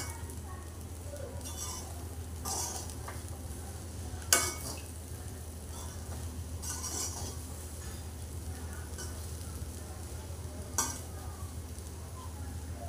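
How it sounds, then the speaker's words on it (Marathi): Tawa pulao being stirred on a hot griddle after coriander is added, a low steady sizzle running throughout with occasional scraping and clinking strokes of a spoon against the pan, close and fairly quiet. "आणि छान मिक्स करून घेऊया."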